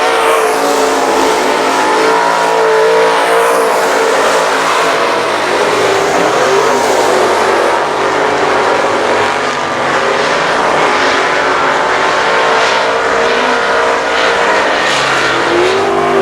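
Race cars in a late-lap race at I-37 Speedway roar continuously and loudly, engines droning and shifting pitch as the field passes, a sustained dense wall of motor noise with no pauses.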